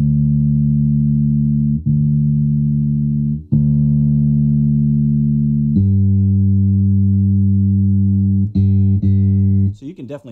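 A bass guitar played through a Gallien-Krueger MB110 combo amp with its treble boosted rings out in loud, sustained low notes, changing pitch every couple of seconds, with a few quick plucked notes near the end.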